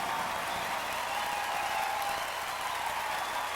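An audience at the Snowball Classic 2003 ballroom dance competition keeps up steady, moderately loud applause, a continuous wash of clapping heard from a distance.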